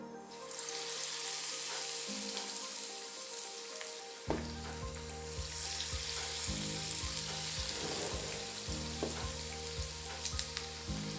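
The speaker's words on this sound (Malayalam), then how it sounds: "ഈ ബാറ്ററിനെ നമുക്കൊരു സ്പൂൺ ഉപയോഗിച്ചോ അല്ലെങ്കിൽ കൈകൊണ്ട് തന്നെയോ എണ്ണയിലേക്ക് ഇട്ട് കൊടുക്കാം" Banana batter balls frying in hot oil, a steady loud sizzle that bursts up as more batter drops in around the midpoint, with bubbling crackle continuing throughout and no voices.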